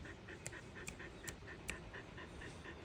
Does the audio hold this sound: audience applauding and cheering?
no